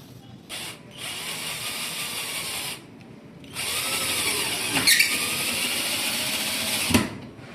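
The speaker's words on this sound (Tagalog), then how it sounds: "So nag-screw tayo dito. Black screw." Power drill driving black screws into attic flooring, several bursts of whirring motor with pauses between them, loud and close with no talking.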